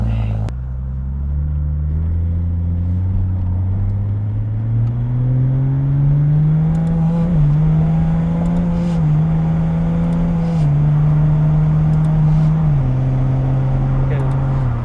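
An EV-swapped Ford Foxbody with a 5-speed manual driving, its electric motor whine rising steadily in pitch and then stepping down between gears, loud and close from the cabin with people talking over it.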